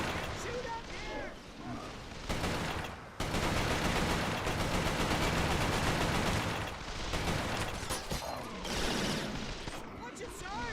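Rapid gunfire bursts in a video game battle roar almost without pause, loud and dense, with short gaps near the start and brief calmer stretches, while voices shout over the shooting.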